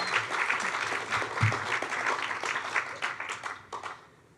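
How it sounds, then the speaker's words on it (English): At a college of science and mathematics awards ceremony, an audience applauds an academic award recipient, a lively wash of clapping from a moderate crowd that thins out and tapers off toward the end. "So give her a round of applause."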